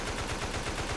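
Rapid automatic gunfire in the zombie video game Mega Zombie, a steady stream of dense, evenly spaced shots that stays loud and continuous throughout, with no talking over it.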